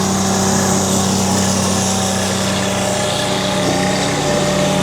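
Diesel engine of a traditional SHO log splitter at an outdoor open house in a parking lot, running steadily with a constant droning idle and no break across the stretch.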